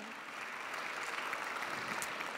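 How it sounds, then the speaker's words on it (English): Even, sustained clapping from the audience at an international blog awards ceremony during a tech conference, a uniform wash of applause that swells slightly and stays steady without speech. "Let's give a big round of applause for Fanos."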